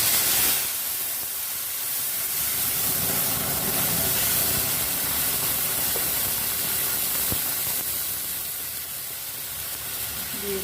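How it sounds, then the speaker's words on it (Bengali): Coriander leaf paste hits hot refined oil in a pan, bursting into a loud broad sizzle that holds steady and eases slightly toward the end, with no talking. "তেলটা গরম হয়ে গেছে, এবার দিয়ে দেব ধনে পাতা বাটা।"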